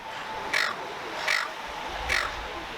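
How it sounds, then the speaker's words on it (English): Three harsh, evenly spaced gull calls ring out near a beach cafe on the water in south-western Western Australia, each a short loud squawk standing clearly above a quiet outdoor background. "These seagulls were so funny."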